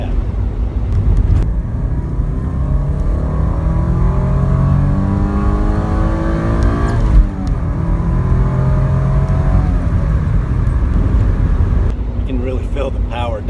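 A Porsche 944 fitted with a performance chip accelerates hard through the gears, its engine revving loudly and steadily from inside the car, with a short shift break near the end and road noise underneath.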